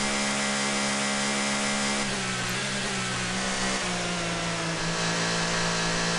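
Touring car engine screaming near the top of its revs in the racing game TOCA 2 at Brands Hatch, a loud steady high-pitched drone with brief dips as gears change, heard alone without talk.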